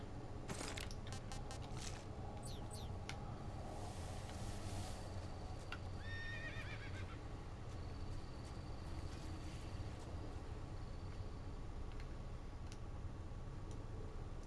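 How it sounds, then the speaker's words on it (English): A horse in the video game MGSD whinnies in a couple of short, high, quavering calls over a steady low background hum, with a few ticking clicks early on. "It's a horse."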